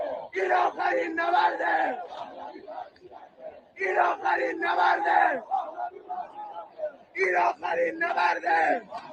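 Massed voices of a crowd in Iran chant a pro-Pahlavi political slogan, roaring out in three strong rhythmic waves with short gaps between them, loud and close.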